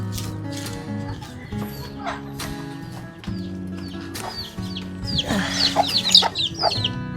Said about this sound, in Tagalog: Magpapatuka muna ako ng manok.